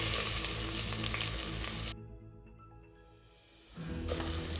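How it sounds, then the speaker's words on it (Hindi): Chopped onions frying with whole spices such as cardamom, cloves and bay leaves, a bright continuous sizzle that drops out abruptly for about two seconds before returning just as strongly. "प्याज को हम हल्का गुलाबी होने तक फ्राई करेंगे"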